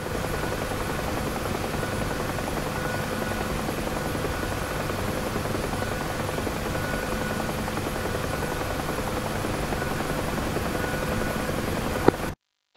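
A UH-1H helicopter in the DCS flight simulator: a steady, droning rotor and turbine whine that holds evenly throughout and cuts off abruptly at the end, with no voices.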